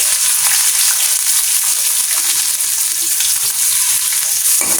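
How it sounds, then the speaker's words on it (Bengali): Onion and chili sizzle loudly in hot oil, a steady, bright, crackling fry that continues without pause, close up and with no talking. "তেলটা আগে সুন্দর করে গরম করে নিয়েছি। এখন আমি পেঁয়াজ আর মরিচটা দিয়ে দেবো।"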